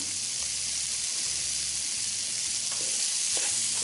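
Onions and curry cooking in a pot, a continuous broad sizzle and hiss with faint stirring scrapes, steady and close with no talk.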